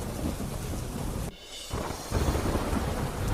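Heavy rain pours steadily with gusting wind and rumbling thunder during a storm over a city and surrounding countryside, loud and continuous, with a brief dip in the downpour midway before it swells again.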